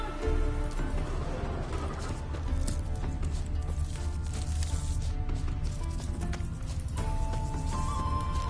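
Roach, a horse in The Witcher 3, gallops with rapid, continuous clip-clopping hooves, loud and close, mixed with game sound effects and a snort or whinny.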